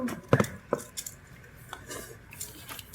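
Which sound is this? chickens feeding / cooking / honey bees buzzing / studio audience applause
cooking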